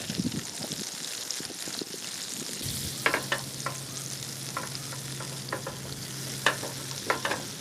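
A crispy grilled cheese fries in a pan on a camp stove outdoors on a mountain, a soft sizzle joined by a steady burner hum partway through and punctuated by sharp scraping clicks.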